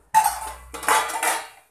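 Hot tadka tipped into a pot of dal gives a sharp metallic clatter of pan against pot, then a second rattling burst and a short crackle that fades, close and alone with no talk.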